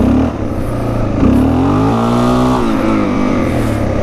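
Suzuki DRZ400 dirt bike on a snowy trail, its single-cylinder engine loud and close, revving up through first gear in rising, climbing pulls that dip and pull again.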